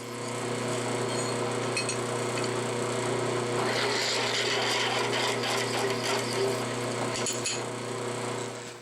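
A power drill grinds steadily through metal, enlarging a hole in a brake bracket with a 25/64 bit, a continuous harsh whir that roughens and intensifies midway, with a few scraping bursts near the end.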